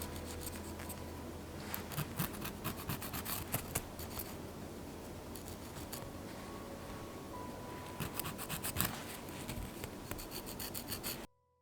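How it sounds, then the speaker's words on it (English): Press-on nails are filed with quick, scratchy rasping strokes, close and steady for about eleven seconds, with brief pauses before the sound stops abruptly. "after trimming down your nails, what you have to do is file your nails"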